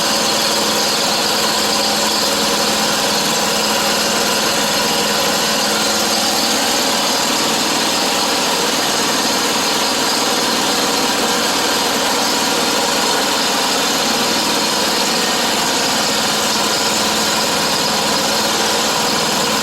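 A John Deere Z Track zero-turn mower engine runs steadily at a high, buzzing idle, loud and close with constant vibration and no pauses.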